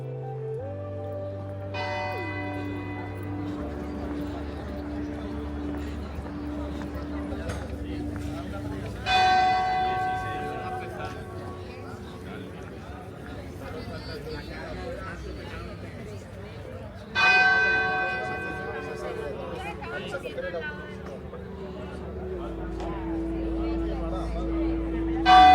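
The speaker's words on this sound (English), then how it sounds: "How peaceful is it here with the church bell ringing?" Church bells ring out in Medjugorje with strong repeated strikes and a long, shimmering hum, while a crowd murmurs and chatters in the background.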